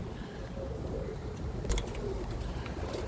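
Birmingham Roller pigeons coo softly in a loft, low murmuring calls over a constant hum of background noise, with a brief rustle or flutter in the middle.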